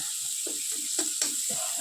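Chopped bottle gourd drops into a hot, scorched wok on a gas flame for a lau moong dal dish, giving a short, close sizzle with a few stirring scrapes.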